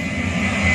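A steady, loud roar of a small airplane's engine taking off in Tarakan, North Kalimantan, droning evenly and building slightly toward the end.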